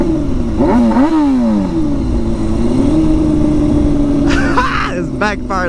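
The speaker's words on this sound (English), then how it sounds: "The bike is so loud now, man." Straight-piped Kawasaki ZX6R sport bike revving hard up close, engine pitch sweeping up and down in sharp bursts, then a sustained high idle with crackling pops near the end; people talk over it.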